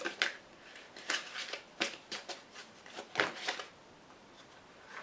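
Tarot cards are shuffled by hand, with a few slipping out: several short, papery riffling bursts, close and fairly quiet, then stillness near the end.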